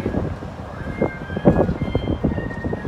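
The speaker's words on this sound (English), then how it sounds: "super windy." Strong wind buffets the microphone in continuous low rumbling gusts, with a faint steady tone running underneath, outdoors by the bay at a hotel in Burlingame, California.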